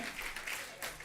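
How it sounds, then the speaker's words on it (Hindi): A television studio audience at The Kapil Sharma Show breaks into brief, dense clapping for guests Taapsee and Tahir, a short burst of applause with faint voices underneath. "एक बार जोरदार तालियां तापसी और ताहिर के लिए"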